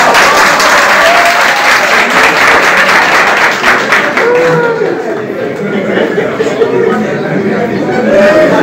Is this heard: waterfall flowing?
no